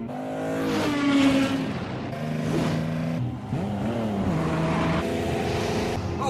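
The cursed car known as the Z du diable revs hard, its engine note climbing and dropping in repeated surges, loud and close, with a brief dip before it roars again.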